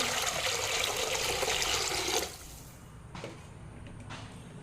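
Water pours into a ghee-coated pot in a loud, steady gush for about two seconds, then stops, leaving quieter trickles and a few splashes.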